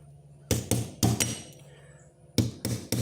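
A hammer peens the pin of a pocket knife, striking in quick pairs of sharp, ringing metallic taps, two pairs, a pause, then three more close blows, near and alone.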